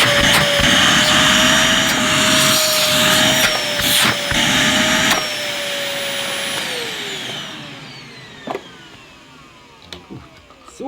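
Vytronix budget bagged cylinder vacuum cleaner running close by with a loud, high motor whine and airflow roar, shifting in pitch as it is handled, then winding down and fading toward the end with a few knocks.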